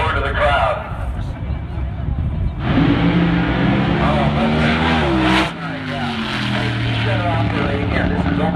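A nitro-fuelled drag racing car makes a pass down a dragstrip, its engine a loud, harsh roar that surges and climbs in pitch, cuts off abruptly, then rises again, heard from the spectator area with a commentator talking over it.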